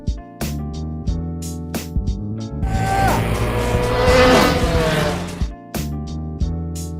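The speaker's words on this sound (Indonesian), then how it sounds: "Mereka pun turun ke jalan untuk balapan lagi." Cars racing on a street in a film, with engines roaring and tires squealing through a loud, continuous stretch, framed by brief sharp accents before and after.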